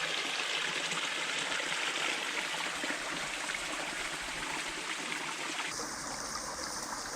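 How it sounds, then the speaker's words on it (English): Stream water spilling over a small waterfall, a steady broad rushing hiss that stays even and continuous, moderately faint, with no voices. "Where the water is flowing over the waterfall"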